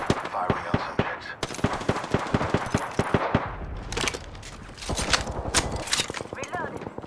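Rapid automatic gunfire in the shooter game Apex Legends: loud, tightly spaced bursts of shots with brief pauses, some sounding near and punchy. Voices talk intermittently beneath the shooting.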